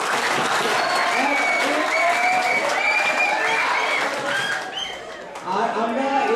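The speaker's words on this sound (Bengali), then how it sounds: "আমার সাথে একটা তালি দিই" A crowd at a health awareness event claps loudly and steadily for several seconds, with cheering and voices mixed in, then briefly dips before picking back up.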